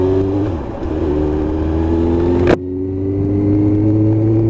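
A Suzuki GSX-R1000 race bike's engine drones steadily at close range, climbing in pitch, then cuts sharply for a gear change before pulling hard again, loud and continuous with no talk.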